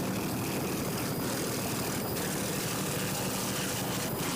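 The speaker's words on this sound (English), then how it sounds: "24-foot skater powered by two 200-horsepower Mercury outboards." A 24-foot Skater racing powerboat with twin 200-horsepower Mercury outboards roars at full throttle during an offshore race, a loud continuous engine drone with wind and water rush and no voices.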